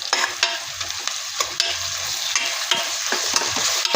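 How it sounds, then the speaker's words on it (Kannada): Ginger garlic paste frying in a pan for soybean kushka, a steady loud sizzle broken by repeated scraping stir strokes, with no voices. "2 ಸ್ಪೂನ್ ಶುಂಠಿ ಬೆಳ್ಳುಳ್ಳಿ ಪೇಸ್ಟ್ ಹಾಕ್ಕೊಂಡು ಚೆನ್ನಾಗಿ ಹಸಿ ಫ್ರೈ ಮಾಡಬೇಕು"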